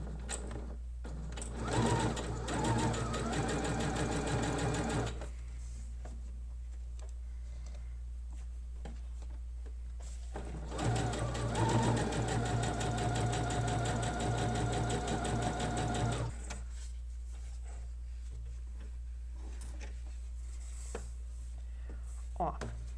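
A sewing machine runs a basic straight stitch on a scrap of fabric in two close, rapid, rhythmic bursts of several seconds each. A steady low hum sits beneath, with quiet pauses between the bursts.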